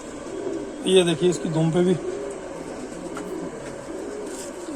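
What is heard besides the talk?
pigeons cooing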